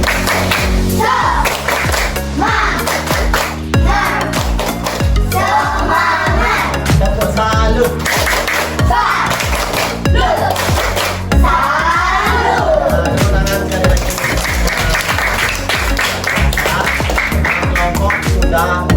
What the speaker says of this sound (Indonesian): Ucapan terima kasih kepada semua anak dengan tepuk salut dan tepuk semangat.